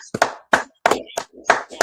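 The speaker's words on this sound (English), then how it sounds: "Go ahead, clap it up" Small gathering at a Kansas City community event clapping, a handful of distinct sharp claps in short irregular bursts, close and clear, with voices talking in between.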